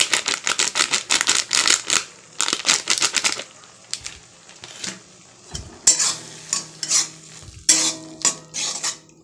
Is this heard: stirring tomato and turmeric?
yes